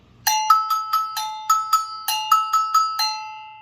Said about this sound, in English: this is a go-go bell is what it's called